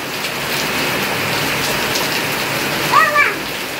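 Steady rain falls in a village, a dense, even hiss of drops on surfaces close by, with a brief voice cutting in near the end.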